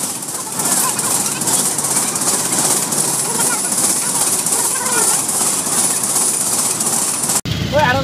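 A train rolls through a railway level crossing on a road crowded for a festival, a loud, steady rumbling roar that holds throughout and then cuts off abruptly near the end.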